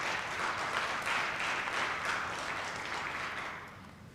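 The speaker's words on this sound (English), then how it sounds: "we'll clap for her anyway" An audience at a 2020 outstanding teacher and staff awards ceremony claps steadily for about four seconds, a dense wash of applause that tapers off at the end.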